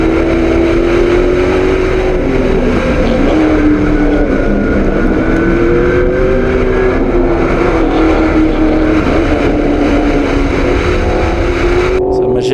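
Superlate race cars roar through a turn at Willow Springs Raceway, their engines a loud, steady drone that rises and falls with the revs and continues unbroken throughout.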